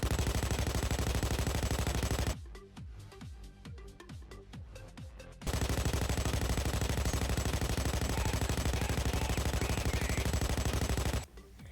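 A video game firearm fires in long sustained full-auto bursts, loud and continuous, broken by a short pause with a few separate shots before another long stream, with no talking.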